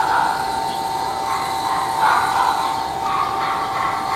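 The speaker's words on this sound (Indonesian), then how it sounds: "Sekarang kita akan nyalakan pompanya." Electric water pump running with a half-inch suction pipe, a steady loud humming drone with a whining tone that stays constant and close throughout.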